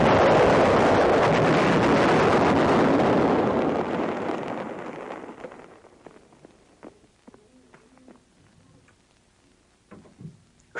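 Little David 914mm mortar shell exploding, a massive roaring rumble that starts loud and slowly fades over several seconds, followed by scattered faint debris thuds and clatter.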